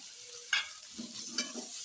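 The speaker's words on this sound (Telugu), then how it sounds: "అల్లం, ఎల్లిగడ్డ ఇవన్నీ ఆయిల్లో ఫ్రై చేయాలి" Ginger and garlic sizzle and fry in hot oil, a soft steady crackle with two brief louder bursts as the pan is stirred, quiet and close.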